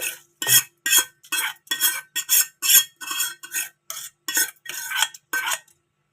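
A spoon scrapes and clinks around a pot as tempering is stirred into spinach dal (palakura pappu), with about a dozen short, bright strokes in a steady rhythm. The strokes sound close and fairly loud, and there is no talk.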